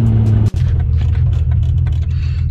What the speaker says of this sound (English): I just had this truck pass me.